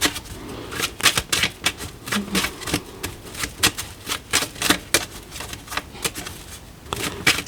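A deck of tarot cards is shuffled and cut close by, with quick rapid riffles and flicking bursts in uneven rhythm; no voices.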